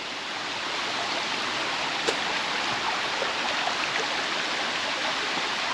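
Waterfall on the island of Madeira along a hiking trail, a loud, steady roar of rushing and splashing water filling the air without pause, broken only by a faint click.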